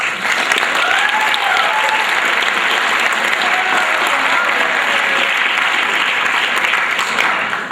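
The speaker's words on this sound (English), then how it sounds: "she deserves a big round of applause" An audience at a school winter sports awards evening breaks into sustained, dense applause that holds steady and loud for the whole stretch, with a few faint voices mixed into the clapping.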